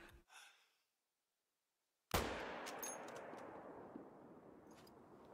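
Rifle gunshot while hunting in theHunter: Call of the Wild, a single sharp, loud report after near silence, followed by a long rolling echo that slowly fades.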